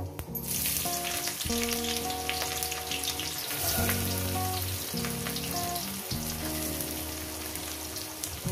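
Chopped onion hits hot oil seasoned with panch phoron and sizzles in a steady, close hiss, with sustained tonal music playing over the frying throughout.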